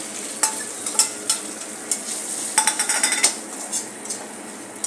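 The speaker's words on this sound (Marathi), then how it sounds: "हे चांगले आपण परतून घेऊ" Spices and masala sautéed in a pan (garam masala, cumin powder, black pepper, asafoetida, red chilli and turmeric) give a low steady sizzle, broken by irregular clinks and scrapes of a spoon stirring against the metal, close and moderately quiet.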